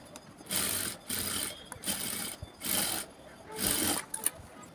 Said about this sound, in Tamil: இப்போ வந்து நான் நெக்கை வந்து தைச்சி எடுத்துக்க போகிறேன்